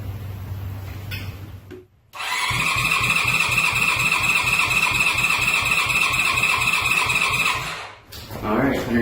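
A Honda CB550 motorcycle engine cranks over on the starter during a compression test, a loud rhythmic chugging with a whining starter lasting about six seconds, framed by brief handling noises and speech before and after.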